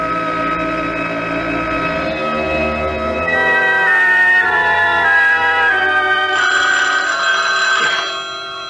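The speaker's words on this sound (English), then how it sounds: "Oh, the phone." Telephone bell sound effect from an old radio mystery drama, a loud sustained ringing tone that runs steadily for several seconds alone before fading out, with no voices over it.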